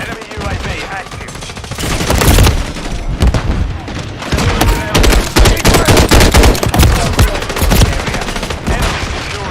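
Loud, dense bursts and booms from a stun grenade and surrounding gunfire in a military shooter game, the blasts packed closely together over several seconds with brief swells of intensity.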